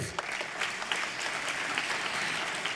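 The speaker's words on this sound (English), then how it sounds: "Merci de l'applaudir." A short burst of steady, fairly faint clapping from an audience, many hands at once, with no voices over it.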